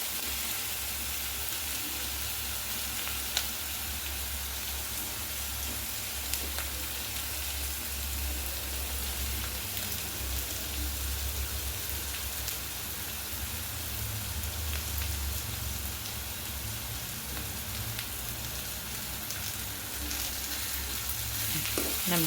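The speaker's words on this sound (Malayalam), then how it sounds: "കടുകൊന്ന് മൂത്തിട്ട് നമുക്ക് മിക്സ് ചെയ്ത് കൊടുക്കാം." Mustard seeds frying in hot oil for a Kerala-style mutton curry, a steady close crackling sizzle like light rain that runs evenly throughout, with no speech.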